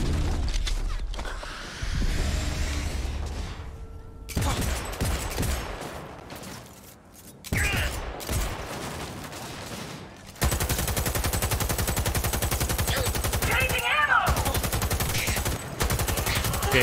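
Gunfire from the video game Cyberpunk 2077, loud bursts of shots and dense fusillade sections broken by short pauses, with mechanical clatter in between.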